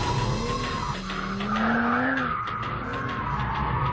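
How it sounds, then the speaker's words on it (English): A BMW 1M in M mode squeals and skids its tyres, a loud continuous screech with a rising and falling pitch over steady engine roar, heard alone with no voices. "In M mode, it's even more of a tyre-smoking mentalist."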